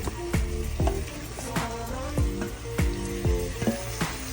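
Washed chicken sizzling and frying in a hot pan, with repeated scraping and stirring strokes about every half second, close and steady.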